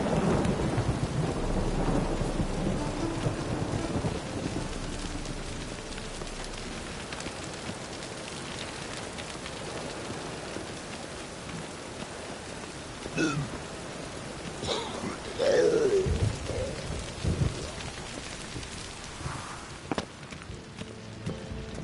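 Steady rain falls in a PS4 game scene, a dense hiss with rumbling thunder near the start and a few sharper knocks later, with no talk.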